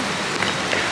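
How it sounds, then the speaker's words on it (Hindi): Rain beginning to fall outdoors, a steady close hiss of drops spattering on surfaces that fills the full second without pause. "बारिश आ गई। भागो।"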